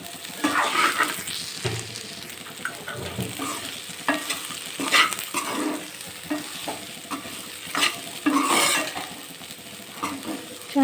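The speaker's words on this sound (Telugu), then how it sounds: "కాకరకాయలు వేసి కలుపుతాను" Small bitter gourds being stirred while they fry in a pan, with continuous sizzling and repeated close scraping and clattering of a spatula at an uneven rhythm, no talking.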